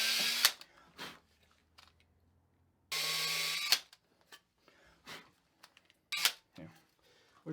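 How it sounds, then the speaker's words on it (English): A power drill boring pilot holes into a custom guitar body for bridge mounting, two sustained whirring bursts each about a second long, with scattered clicks and handling noises in between. "what I'm going to do is I'm going to drill the rest of our pilot holes."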